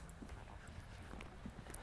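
Hooves of a four-year-old young horse in training beat the ground in a steady clip-clop rhythm, fairly faint and distant amid soft outdoor background noise.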